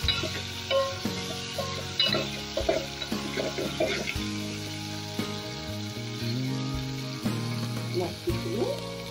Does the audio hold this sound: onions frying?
yes